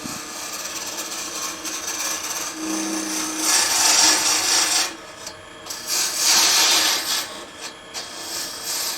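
A woodturning tool takes small peeling cuts on a spinning wooden finial on a lathe, giving a continuous close rasping hiss that swells and eases in two longer passes over the motor hum.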